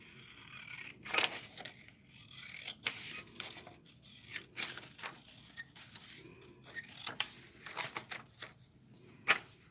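Scissors snipping through fabric for a men's dress shirt tie, a series of close, crisp cuts and rustles in irregular bursts with no talking.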